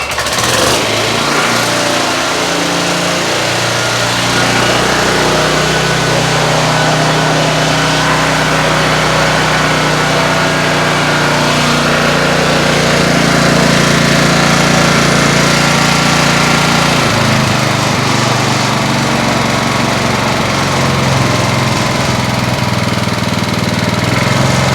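A vintage Honda HR214 lawn mower engine runs at full throttle with no choke while smoking, producing a loud, continuous close-up roar with a rough, knocking rumble and no talking.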